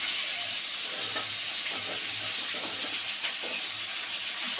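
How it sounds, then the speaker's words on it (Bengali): Cauliflower frying in a wok with onion and green chili gives a steady, close hiss and crackle of hot oil that runs without a break, with faint stirring knocks scattered through it. "ফুলকপি দিয়েছি কড়াই"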